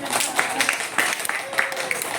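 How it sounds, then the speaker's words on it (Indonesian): A short burst of audience clapping at a student eco-enzyme outreach session, with scattered hand claps mixed with voices in the room. "Tepuk tangan boleh"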